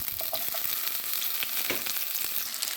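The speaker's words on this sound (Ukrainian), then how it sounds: "І на цю ж олію викладаю цибульку." Onion frying in garlic-infused oil in a pan, with a steady, close crackling sizzle and occasional stirring scrapes throughout, no voices.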